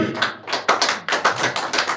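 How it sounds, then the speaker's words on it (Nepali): A church audience claps for a woman in a brisk, uneven patter of hand claps. The close, fairly loud bursts come from a small group. "ताली बजाउनु पर्छ नि आमाको लागि, बजाउनुहोस् त"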